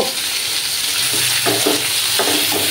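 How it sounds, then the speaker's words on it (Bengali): Ridge gourd and potato pieces sizzle steadily in hot oil in a pan, with a constant loud hiss and a few soft scraping stirs. "ঝিঙে আর আলুগুলো একটু ভাজা ভাজা হতে থাক।"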